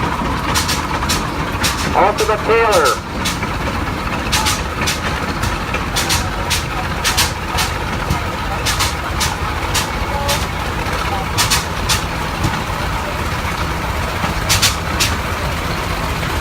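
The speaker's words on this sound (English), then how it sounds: "It's the steam engine tractor." A steam engine tractor rolls past in a farm show parade, a continuous heavy engine rumble with sharp repeated hissing bursts and a brief squeal, while a voice speaks over it.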